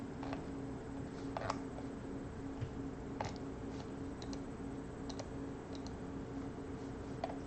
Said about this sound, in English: don't mind me typing out this Cardboard Live list here